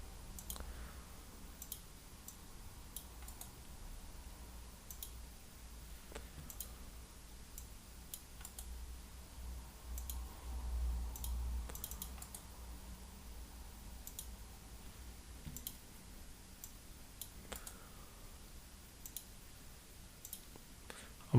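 Mouse clicks from right-clicking on a computer while building a database diagram, sounding as a series of sharp, quiet ticks scattered through a low, steady room hum with no voices.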